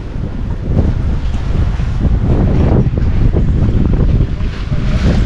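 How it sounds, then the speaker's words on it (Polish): Strong wind buffeting a sailing boat at sea near Saint Pierre, a loud continuous roar of gusts and wind noise over the microphone, with water washing underneath. "dostaliśmy trochę wiatru. To jest teraz tak, że zrywa się, znaczy zrywa, a no nagle pojawia się wiatr i płyniemy."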